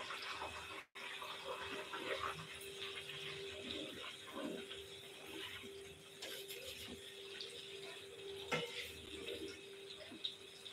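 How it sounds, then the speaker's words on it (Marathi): A little water poured into homemade ghee simmering in a pan gives a faint, steady hiss and soft bubbling that lasts throughout, quiet and with no talk. "थोडंसं पाणी टाकायचं आहे."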